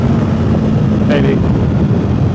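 Strong wind buffets the helmet microphone of a rider on a Honda CBR1000RR motorcycle, a continuous loud rumbling roar with engine drone beneath, and a voice speaking briefly over it.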